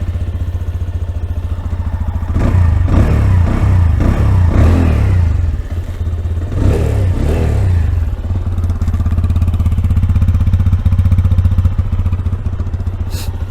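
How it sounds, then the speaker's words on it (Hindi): A TVS Apache 160 2V motorcycle idles with a steady, loud, low exhaust thrum that runs throughout, with talking over it in the middle section. "ये आइडल पे साउंड है"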